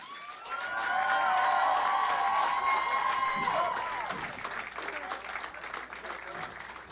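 Spectators in an arena at the 2011 Class C boys state finals break into sustained applause with cheers and whistles for the two finalist teams, peaking early and then tapering into lighter clapping.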